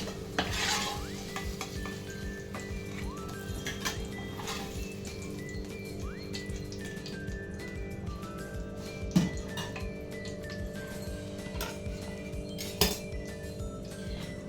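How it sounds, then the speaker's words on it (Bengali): Cauliflower frying in hot oil in a pan, after potatoes were fried in it. A steady low sizzle continues throughout, with occasional metallic clinks and stirring scrapes from utensils against the pan, close and moderately quiet. "ওই তেলের মধ্যে এবার ফুলকপিগুলো আমি ভেজে নেব।"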